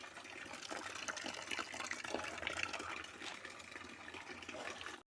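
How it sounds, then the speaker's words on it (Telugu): Raw, muddy groundnuts are washed in water, giving a quiet, continuous sloshing and splashing with small bursts of running water and no voices. "కాయలన్నీ కడిగేసి ఇలా చెర్రీల్లో పెట్టేసామట."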